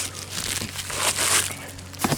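Packaging crinkles and tears as cold air intake parts for a Ram truck are pulled out, a close, busy rustle with sharper ripping bursts near the end.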